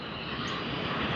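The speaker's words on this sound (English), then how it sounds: "there we see the Airbus A380 of Emirates that has just come in from Dubai" An Emirates Airbus A380, just in from Dubai, arrives at Sydney Airport with a steady, broad jet roar that holds at an even level throughout the short stretch.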